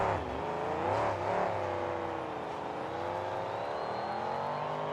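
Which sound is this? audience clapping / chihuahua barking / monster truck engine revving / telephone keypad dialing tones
monster truck engine revving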